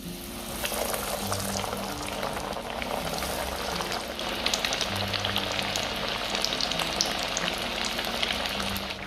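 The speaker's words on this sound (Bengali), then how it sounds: "তো তেলটা গরম হয়ে গেছে, এবার মাছগুলোকে ফ্রাই করে নিচ্ছি।" Bhetki fish pieces frying in hot oil for a crispy Bengali-style fish fry, a dense, continuous bubbling sizzle that swells slightly midway, up close and without any talking.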